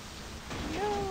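Heavy rain in the video game My Summer Car, a dense steady hiss that swells slightly halfway through, with a thin tonal whine rising in near the end.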